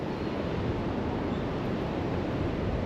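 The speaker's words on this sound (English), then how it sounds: "Gusts of 40-50 mile an hour today." Steady, heavy wind roar from 40-50 mph gusts buffeting the microphone, a continuous dense rumble with no pauses and no voices.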